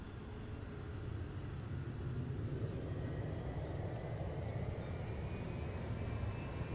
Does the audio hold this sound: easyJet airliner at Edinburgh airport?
yes